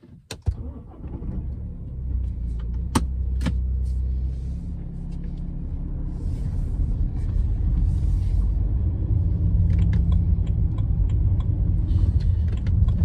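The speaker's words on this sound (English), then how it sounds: "I think we should take it out on the road and see what the BMW is like to drive." A BMW E91 320d diesel estate starts and drives on the road, a low cabin rumble that builds and stays steady, with a few clicks and knocks near the start.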